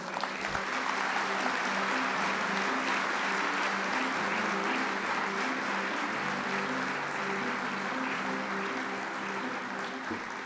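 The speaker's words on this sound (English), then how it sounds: "I would really ask you for a big hand of applause for the Premier of Alberta" Sustained audience applause fills a large hall at the opening ceremony of the World Geothermal Congress, a steady, dense wash of many hands clapping that stays loud for the whole stretch with faint voices underneath.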